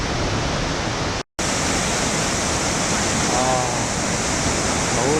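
A thundering, continuous roar from Hukou Waterfall on the Yellow River fills the air close and loud, broken only by a momentary gap of silence near the start.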